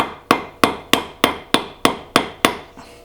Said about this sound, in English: after I got the steel wedge pounded into the hammer